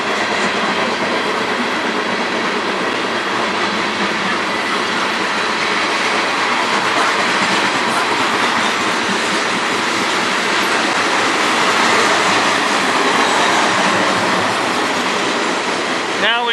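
A long freight train rolls past close by, a loud continuous roar of wheels and rattling cars with steady clickety-clack, never letting up.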